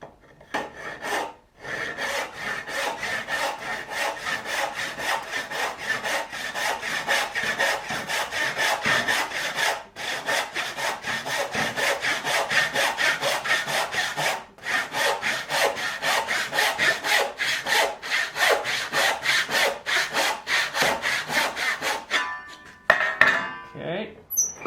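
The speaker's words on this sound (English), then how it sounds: "now we can stand it vertical and saw out this last triangle here" A hand saw cutting a wooden tenon by hand, its steady rasping back-and-forth strokes loud and close, continuing rhythmically with only brief pauses throughout.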